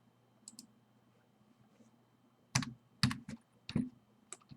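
Keys clack on a computer keyboard in short bursts, a couple of faint taps early, then several louder, closer clusters of typing in a quiet room.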